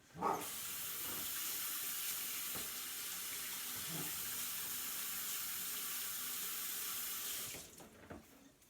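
Tap water runs steadily into a kitchen sink during handwashing, a continuous close rush lasting about seven seconds before cutting off, with faint splashes and handling noises at the start and end.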